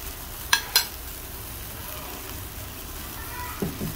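Curry leaves sizzle in a hot pan while black pepper crab is being cooked, a steady low frying hiss with a few sharp crackles and pops near the start.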